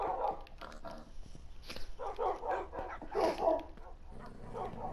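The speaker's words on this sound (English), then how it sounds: "Wow, these dogs are mad." Several Minecraft dogs bark in rapid, overlapping bursts during a fight against iron golems, the yaps busy and irregular at close range.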